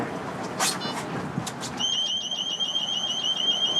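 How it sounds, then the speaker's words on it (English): An alarm on a fishing boat sounds from nearby, a steady repeating electronic beep pattern that starts partway in and continues to the end, over background noise and a few brief earlier tones. "Oh, it's an alarm, eh?"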